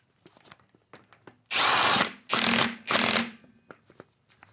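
An 18V Milwaukee 2960 3/8-inch drive impact wrench rated at 1,400 foot-pounds of torque fires in three loud, close hammering bursts, each roughly half a second long, with light handling clatter between them.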